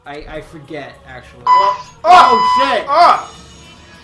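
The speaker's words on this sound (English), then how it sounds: "That's a fire alarm." A fire alarm goes off loudly in repeated harsh electronic tonal bursts, cutting in mid-conversation as people talk and react with alarm over it.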